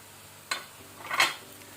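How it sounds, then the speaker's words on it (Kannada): Masala spice powders (coriander, turmeric, garam masala, chilli) frying in a pan for a chicken mushroom masala: faint sizzle with two short scraping stirs of a spoon against the pan, no talk. "ಸೊ ಇದನ್ನು ಸಹ ಸ್ವಲ್ಪ ಫ್ರೈ ಮಾಡ್ಕೊಳ್ಳುವ, 30 ಸೆಕೆಂಡ್ಸ್"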